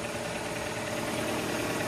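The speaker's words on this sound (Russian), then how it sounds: "И моторчик зажужжал." An Audi's engine runs at a steady idle right after a new 60 amp battery is fitted, giving a continuous close hum with a faint rapid mechanical ticking and no talk.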